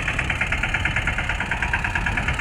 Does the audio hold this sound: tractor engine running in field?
yes